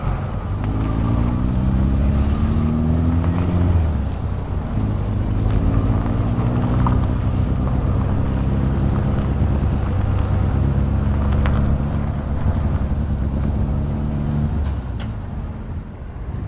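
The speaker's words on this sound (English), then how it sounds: "the vintage car driving on the gravel, and the vintage car driving on, just a vintage car driving" Sound design effect of a vintage car driving on gravel: a loud, steady engine drone with rising and falling revs over a continuous crunching rumble, close and alone with no voices.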